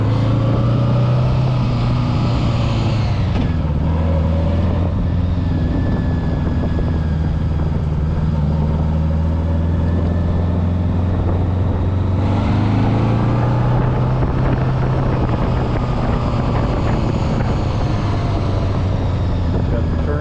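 A loud 1976 Honda Goldwing LTD motorcycle engine roars continuously as it rides along the road, pitch rising and falling with shifts in speed, wind rushing over it throughout.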